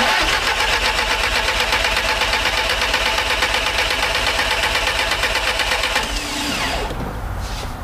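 An A3 race car engine is turned over on the starter, a loud, rapid mechanical cranking that churns steadily for about six seconds before dropping off into quieter rumbling.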